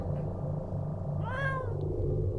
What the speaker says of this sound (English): You've got a cat?